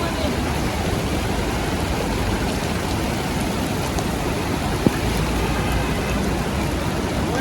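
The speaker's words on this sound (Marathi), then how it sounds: "काहीच खूप पाऊस आलाय" Heavy monsoon rain pours at Barvi dam as a steady, dense hiss of falling water, close and constant, with one brief click partway through.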